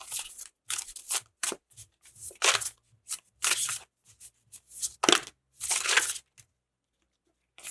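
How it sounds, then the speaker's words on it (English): A deck of tarot cards is shuffled by hand at close range in short bursts of riffling and flapping, separated by brief pauses and then falling quiet at the end. "I think I'm done shuffling."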